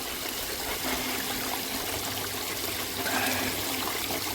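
Water washes black sand down a gold prospecting sluice, a steady close trickling rush running continuously without pauses.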